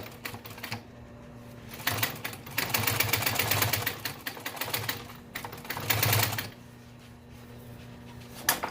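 An auto upholstery sewing machine runs in several bursts, a close rapid mechanical chatter of needle strokes that starts, pauses and restarts between quieter moments.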